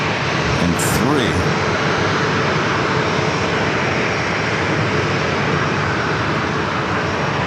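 An American Airlines A321 airliner arriving at San Diego airport produces a loud, continuous engine roar with a steady broadband rumble throughout.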